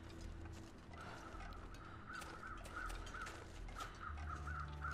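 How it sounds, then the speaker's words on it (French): Several crows caw repeatedly at intervals in a snowy wilderness of The Long Dark survival game, their calls spread across the scene over a steady wind-like ambient bed, with no talking. "J'entends beaucoup de corbeaux en fait."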